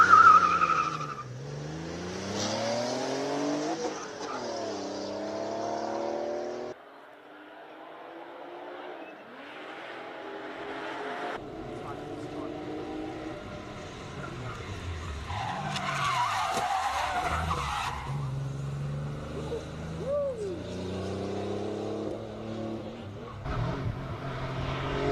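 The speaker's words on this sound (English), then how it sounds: "All the way through, ladies and gentlemen, clean run by the 930 Turbo." A classic Porsche 930 Turbo with a manual gearbox at a Cape Town hillclimb, its engine rising and falling through gear changes with tire squeal in the bends, passing and receding against outdoor background noise.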